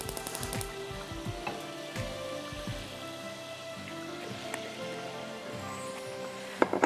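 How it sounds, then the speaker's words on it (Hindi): Sliced garlic sizzling in Filippo Berio olive oil in a pan, a steady close crackle of frying with scattered pops and stirring clatter, loud and continuous with no talk. "अब मैं फिलिपे पेरी ऑलिव ऑयल डालूंगी बिकॉज मुझे फ्राई करना है लहसुन को।"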